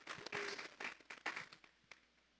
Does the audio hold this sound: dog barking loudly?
no